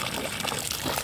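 Water poured at a house construction site, a short, continuous splashing gush heard up close.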